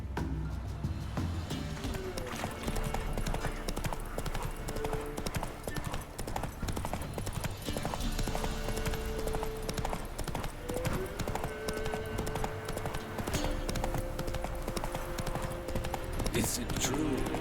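Roach the horse gallops in The Witcher 3 with steady, rapid clip-clop hoofbeats throughout, under game music and ambient sound.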